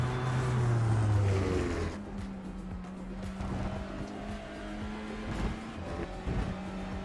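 A touring car in iRacing practice at Interlagos, its engine settling into a steady droning hum after a louder opening, with no one speaking.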